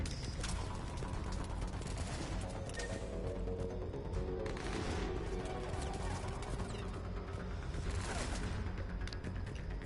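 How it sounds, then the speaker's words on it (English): Gunfire in Mass Effect Legendary Edition crackles in dense, continuous bursts with rattling mechanical clatter and a few heavier impacts, sustained and fairly distant-sounding across the whole stretch. "Someone's shooting at us."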